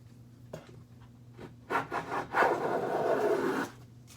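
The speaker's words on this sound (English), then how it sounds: "I normally wouldn't take anywhere near that deep of a cut when using a block plane." A block plane set for a too-deep cut shaves wood in a few close rasping strokes, building to one longer, louder scraping pass before stopping.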